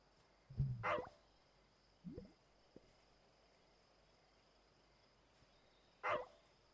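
Dog barking in the video game Wandersong, a few isolated yips and barks spaced a few seconds apart, clear and close against a quiet background hum.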